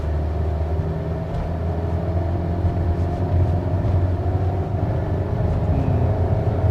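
A CNG car with a CVT gearbox pulls uphill from a standstill, giving a steady low engine drone and road rumble with no change in pitch and no talking.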